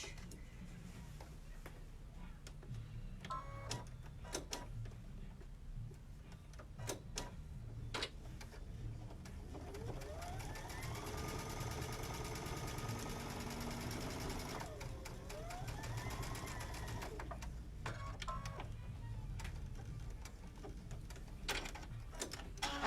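A sewing machine stitches a quarter-inch seam in fabric, a fast steady mechanical ticking that runs in bursts with short pauses, fairly close but modest in level.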